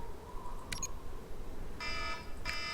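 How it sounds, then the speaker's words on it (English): A snooze alarm in the Anno 2070 city-building game goes off in two short bursts of bright electronic beeping, each about half a second long, sounding over a steady background game score. "And there goes the snooze alarm."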